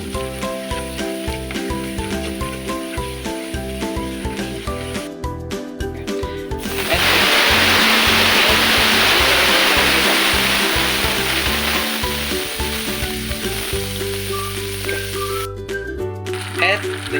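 Butter and flour mixed together in a hot pan while cooking macaroni and cheese, with a loud, steady sizzle in the middle stretch, framed by music and occasional clattering before and after.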